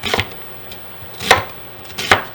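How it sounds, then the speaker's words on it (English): A knife chops an onion on a cutting board in three separate sharp strikes spaced across a couple of seconds, close and fairly loud, with no voices. "I'm just gonna start cutting up my onion here"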